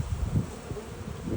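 Honey bees buzz around hive boxes while an escape board is fitted, a low, steady droning hum that stays close and continuous, swelling and dipping slightly.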